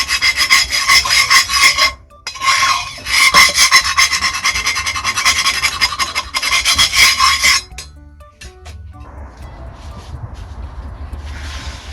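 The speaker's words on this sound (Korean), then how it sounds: "스크래퍼로 한번 더 긁어줘도 크게 문제 없습니다." A metal scraper rasps hard and rhythmically across a rusted cast iron pan, scraping off rust in loud, gritty strokes, pausing briefly between bursts of scraping.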